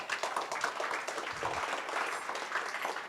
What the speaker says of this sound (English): Round of applause for all of our parents.